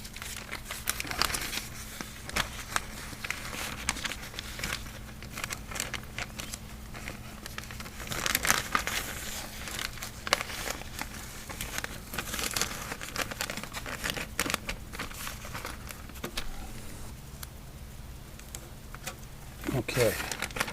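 Masking paper is crinkled and pressed over a car body being taped off for painting after rust repair, a steady run of crackling paper rustles across the whole stretch, close by with brief handling noises.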